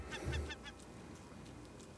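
A bird honks and calls in the survival game Raft, a couple of goose-like squawks close by and fairly faint, followed by quieter low noise.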